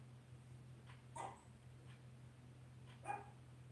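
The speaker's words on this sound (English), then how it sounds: "I say hello, my dog barks because he thinks there's somebody here." A small chihuahua barks indoors, two quick sharp yaps spaced a couple of seconds apart, fairly faint over a steady low electrical hum.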